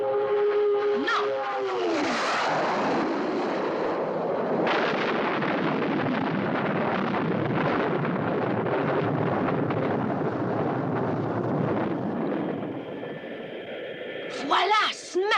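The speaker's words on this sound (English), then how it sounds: "Firing missile. Now." A missile launch and explosion from the 1967 puppet series Captain Scarlet and the Mysterons: a long, loud roaring rush with a rising whine at the start, sustained for over ten seconds before fading into a brief tail.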